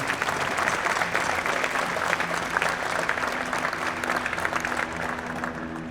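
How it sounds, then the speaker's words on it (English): Sustained audience applause fills a military retirement ceremony, steady and fairly loud for the full stretch, dense overlapping claps with a faint crowd murmur underneath. "Let's give a round of applause for Senior Chief Latham for that national anthem."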